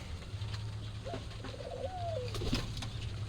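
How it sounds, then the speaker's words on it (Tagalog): Soft cooing from nearby kept pigeons, a few low throaty coos over a steady background hum. "Ayan yung ating mga ibon na ipasasabay natin, guys."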